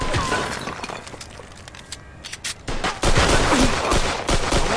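Machine gun fire in Mafia 2: Definitive Edition, rapid repeated shots with sharp crackling and shattering impacts, growing louder and denser toward the end.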